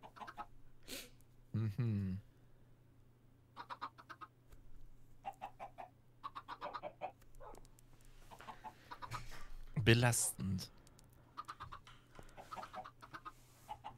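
Chickens cluck in a large pen in Minecraft, in short scattered bursts with brief louder squawks, under and between people talking in German.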